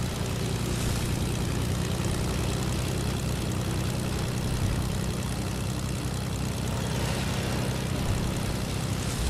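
A Fortnite plane engine roars continuously and loudly nearby, a dense steady drone holding level for the whole stretch with no voices.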